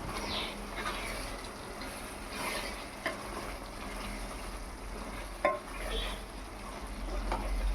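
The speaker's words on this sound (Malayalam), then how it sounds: "കുരുമുളക് പൊടിയും മല്ലിയിലയും ഇട്ട് നന്നായി ഇളക്കി കൊടുക്കുക" Pepper powder and coriander leaves are stirred into a pan of street-stall style shredded chicken roast. A steady, fairly quiet frying hiss runs throughout, with occasional spoon scrapes and one sharper clink against the pan.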